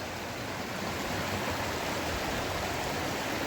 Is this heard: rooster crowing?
no